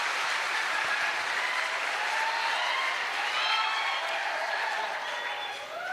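A seated audience at a Marathi poetry reading claps continuously in a dense, even wash of applause lasting several seconds, with faint voices mixed in.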